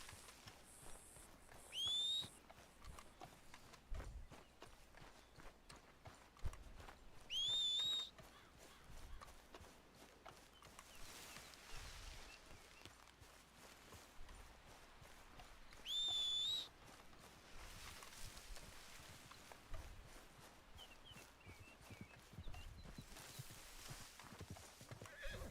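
Horse hooves clip-clop steadily in Red Dead Redemption II, with several loud neighs and whinnies cutting in at intervals, plus a few faint whistles over a quiet outdoor game soundscape.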